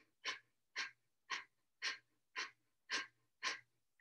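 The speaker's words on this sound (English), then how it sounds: "Begin breath of fire here." Breath of fire, a rapid yogic breathing exercise, comes as seven sharp, forceful exhales in an even rhythm, about two per second, close and clear against near silence.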